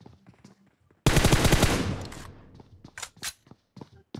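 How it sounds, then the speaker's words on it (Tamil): A sudden loud, close burst of rapid machine gun fire in a multiplayer video game room match, with the rattling rounds trailing off into scattered softer shots and short sharp bangs. "மிஷின் கன் வச்சுட்டு வர்றாரு இவரு."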